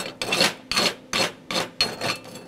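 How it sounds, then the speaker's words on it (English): Wire brush scrubbing a flux-cored self-shielded weld, five rhythmic rasping strokes back and forth, close and fairly loud with brief pauses between passes. "Wire brush it."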